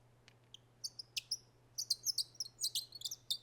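A string of high, thin imitated bird chirps and tweets made as foley, sparse at first and then quicker, faint over a low steady hum.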